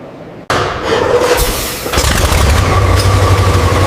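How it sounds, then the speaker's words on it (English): An old military truck's engine cranks and fires after half a second of silence, catching with a loud rumble that settles into a steady, close, rough idle. "For the first time in 100 years, the engine came alive."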